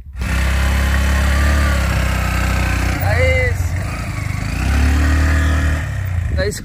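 A battered old motorcycle on the way to Jaleswar boat ghat rumbles steadily, its low engine drone running loud and continuous throughout, with a short rise in revs partway through.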